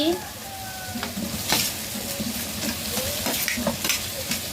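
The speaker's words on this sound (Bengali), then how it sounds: "এবার আমি ভেজে রাখা চিকেন গুলাকে দিয়ে দিচ্ছি।" Pre-fried chicken pieces go into a sizzling pan and are stirred, a steady close frying hiss broken by repeated scraping strokes throughout.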